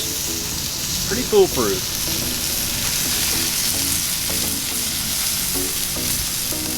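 A sous-vide steak sears in a very hot pan, giving a steady, dense sizzle that fills the whole clip, with a brief clatter of handling and someone talking over it.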